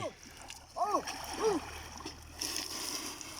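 An elephant sprays and splashes water, with wet bursts of splashing that grow fuller in the second half while people call out nearby.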